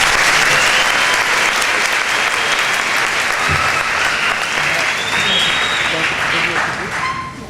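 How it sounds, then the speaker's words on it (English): Loud, sustained applause fills a hall at a Texas awards event, dense clapping from a big audience that holds steady and tapers slightly at the end, with faint voices mixed in. "That deserves a round of applause there."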